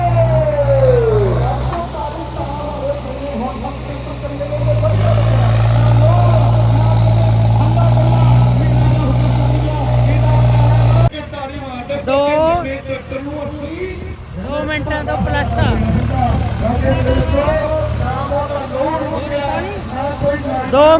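A Swaraj 743 tractor's heavy diesel engine drones loudly and steadily while pulling a trolley in a pulling contest, then cuts to a busier scene with engine noise mixed under overlapping voices and background clatter.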